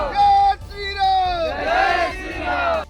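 A protesting crowd marches and chants slogans after a mahapanchayat, setting a house on fire: many voices shout in loud, drawn-out unison bursts, nearby and raw, rising and falling across several calls.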